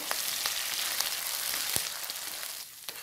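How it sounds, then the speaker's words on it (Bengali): Curry leaves with green chillies and onion frying in hot oil in a pan for an egg and okra curry, a steady close hissing sizzle with occasional small pops and crackles, no voices. "আর কারি পাতাটাও দিয়ে দিচ্ছি। এটাও একটু ফ্রাই করে নেব।"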